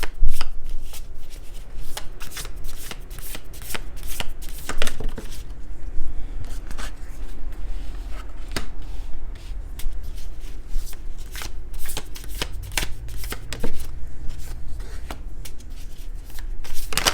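Tarot cards are shuffled by hand in a quick, continuous riffling and slapping, close and crisp, with short bursts and pauses as the deck is cut and squared.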